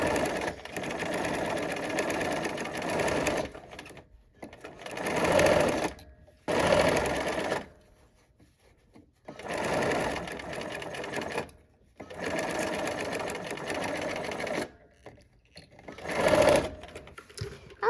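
A sewing machine stitches quilt blocks in several long runs of fast, steady needle chatter, each separated by short quiet pauses, up close with no talk over it.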